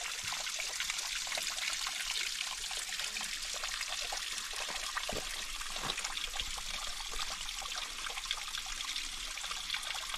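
Water trickles steadily from a natural mountain spring high above the Selway River in Idaho, a soft, continuous burble heard alone at close range.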